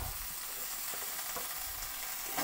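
Small pumpkin pieces fry in a pan for a Bengali kumror chhakka, giving a steady, close, even sizzle with no talking.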